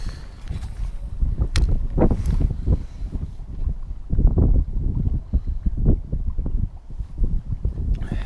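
Strong wind buffeting the microphone at a snowy trout pond, low rumbling gusts that surge and ease irregularly, loud and close throughout with no talking.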